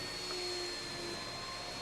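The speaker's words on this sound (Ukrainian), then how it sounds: "Що ти там пилососиш?" Vacuum cleaner running inside The Sims 4, a steady low whirring drone with faint tonal whines, moderately quiet and constant with no talking over it.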